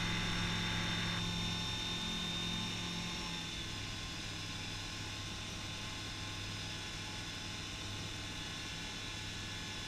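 Microlight aircraft engine running at full RPM on a takeoff run, a steady loud drone with a constant hum that eases slightly after the first few seconds, with no voices.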